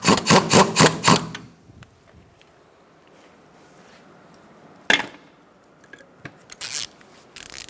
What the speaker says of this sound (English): And put your nut on. I'm going to snug it up and then torque it.